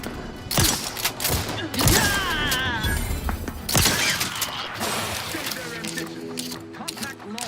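Gunfire in the video game The Outer Worlds 2 crackles in bursts of loud shots and impacts, mixed with game voices and mechanical clatter, giving a busy, dense combat soundscape.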